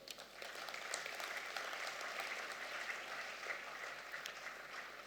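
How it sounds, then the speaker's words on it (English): Graduates applauding themselves at a graduation ceremony, a faint, even wash of many hands clapping at a distance, steady and unbroken for several seconds. "So please give yourselves a round of applause."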